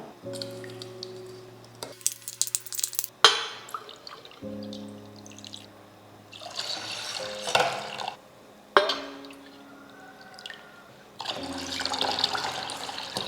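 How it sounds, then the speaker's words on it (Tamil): Three cups of water are poured into rice flour batter in a kitchen, with splashing pours, drips and clinks of a cup or vessel coming in separate bursts between quieter pauses, close and fairly clear. "மூணு கப்பு தண்ணி சேர்த்து மாவு வந்து தண்ணி மாதிரி கரைச்சிருக்கோம்"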